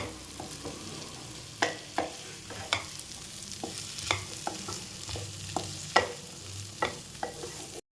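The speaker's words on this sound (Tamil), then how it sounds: "சுரக்காயும் போட்டு நல்லா ஒரு 5 நிமிஷம் வதக்கலாம்." Bottle gourd and peas sauté in a pan, a soft continuous sizzle broken by a dozen sharp scraping stirs of a spoon against the pan at an uneven rhythm.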